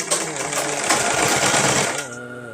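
A sewing machine runs in one steady, fast whirring stretch while stitching a salwar, close and loud, then winds down and stops near the end.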